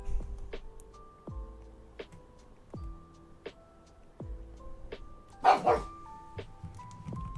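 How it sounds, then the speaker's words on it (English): A dog barks again and again in sharp, fairly close bursts spaced about a second apart, with soft melodic tones from a Pokémon Shining Pearl game playing underneath. "apologies for my dog barking"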